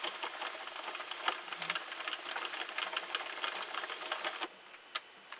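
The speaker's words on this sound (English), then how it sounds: "But I already hear this popping sound, so I'm just kind of side-eyeing this machine right now." A Sentro knitting machine cranking Lily Sugar n Cream cotton yarn, a steady close mechanical clatter studded with sharp popping ticks that stops abruptly near the end, leaving a few faint clicks.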